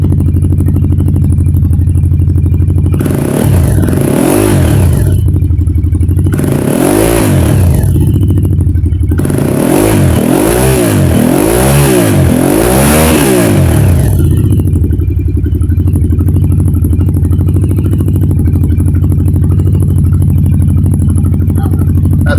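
A loud Aprilia Shiver motorcycle engine with exhaust baffles removed revs repeatedly over a steady idle, with several sharp rising blips in quick succession, raw and open-sounding, no talking.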